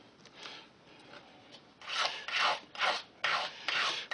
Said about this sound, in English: we've got to clean up the burrs with a small file